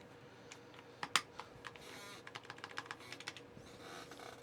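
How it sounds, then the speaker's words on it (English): Typing on a mechanical keyboard with a 4mm polycarbonate plate and Mauve switches gives a quiet, close run of soft, muted key clacks, sparse at first and then a rapid patter. "4mm PC with mauves, milkiest board you've ever heard"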